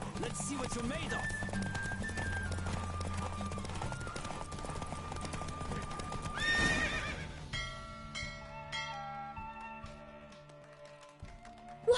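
Horse galloping in The Witcher video game, with rapid hoof clip-clops and a whinny under game music and voices, ending in a change to quieter musical tones.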